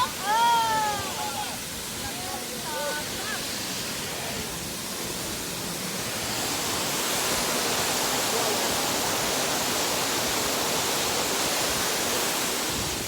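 Nam Kat waterfall in Oudomxay, Laos, heard as a steady broadband rush of falling water that swells louder after the first few seconds, with a voice speaking briefly at the start.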